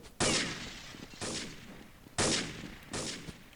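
Gunfire in the video game Counter-Strike 1.6: four loud bursts of shots about a second apart, each a sharp broadband blast with a short decaying tail, heard alone with no talking.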